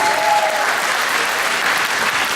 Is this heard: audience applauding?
yes